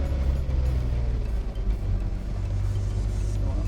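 A Lamborghini Countach on the road gives a steady, deep engine rumble from inside the car, with slight surges in the note. No voices are heard.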